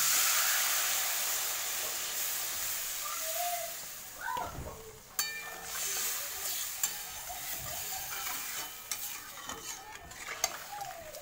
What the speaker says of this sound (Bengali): দেবো এবারে জল।